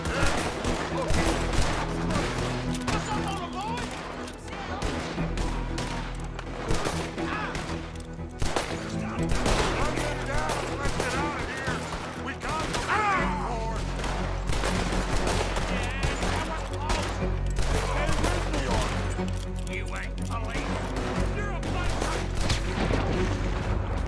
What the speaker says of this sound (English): Alright, shoot him!